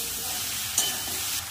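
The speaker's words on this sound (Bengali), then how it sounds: "এবার ভালো করে মশলাটা কষিয়ে নেব।" Spice masala frying and being stirred in a pan for an Indian fish curry with potatoes, a continuous bright sizzle with a short scrape of the spoon partway through.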